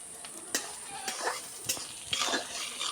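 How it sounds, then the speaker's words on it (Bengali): Onions frying in foaming mustard oil in a pan, a steady soft sizzle punctuated by sharp scrapes and clinks of a spoon stirring against the pot. "বন্ধুরা দেখুন পেঁয়াজটা কত সুন্দর করে ভাজা নেওয়া হচ্ছে"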